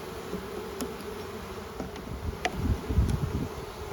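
A steady, dense hum of a restless queenless honeybee colony buzzing together, close up, with occasional louder passes of individual bees near the end.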